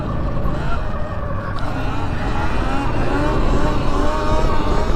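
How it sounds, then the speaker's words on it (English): A stock 2023 Sur Ron X electric dirt bike pulls a wheelie, its motor whine rising steadily over rough broadband road and tyre noise, close and continuous with voices briefly audible. "Let's try a little bit of wheelie action."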